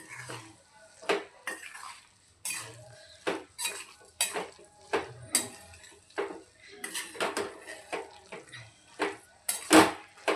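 A spoon stirs asafoetida into homemade garlic pickle, giving repeated close metallic clinks and scrapes against the container in an irregular rhythm, with no voices.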